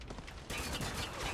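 Weapon reloading in the third-person shooter Spec Ops: The Line, a quick, quiet mechanical clatter of metal parts and clicks lasting about a second.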